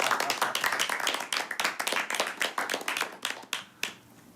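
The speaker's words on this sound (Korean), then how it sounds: "박수 부탁드리겠습니다." Family members clap hands at a gathering celebrating the publication of an autobiography, a quick run of distinct claps from a small group indoors, fairly quiet, thinning out toward the end.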